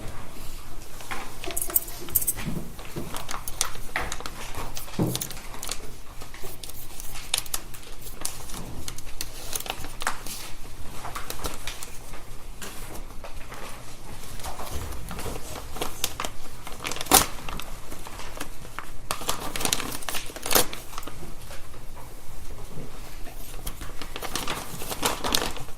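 Scissors cut open plastic evidence packaging in a courtroom during a criminal trial, giving a long stretch of faint, continuous crinkling and rustling with scattered sharp clicks and snips and no talking.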